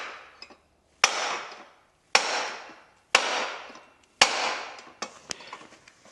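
A piece of wood tapped against a dent in the body of a 1958 Plymouth, five or six sharp, close knocks spaced about a second apart, each ringing briefly before fading, in a quiet room.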